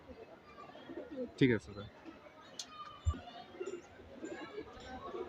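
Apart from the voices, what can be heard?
pigeons cooing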